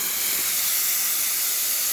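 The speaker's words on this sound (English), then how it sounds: "Steam, as you can see, very powerful, excellent pressure, working amazingly." Steam wand on an Elba 3 espresso machine hissing, a loud, steady high-pitched rush of steam held without a break.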